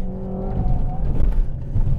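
A Renault Megane R.S. 280 TCe with EDC gearbox revs its engine during a driving test, giving a short, close burst of throaty engine tone that rises and wavers.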